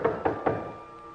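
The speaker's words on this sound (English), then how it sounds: "Sophie, see who knocks" Three sharp knocks on a wooden door in quick, evenly spaced succession, close and clear, in a period drama scene, followed by quiet room tone.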